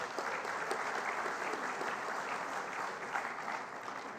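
Audience applause during a speech at the 2016 Sulong Pilipinas event, a dense, steady clatter of many hands clapping throughout, with no voices over it.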